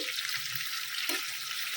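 Brinjal slices crisp-frying in hot oil after a coating of salt, sugar, chilli powder, turmeric and cornflour give a steady bright sizzle throughout, with a soft stir or clink partway through and no talk.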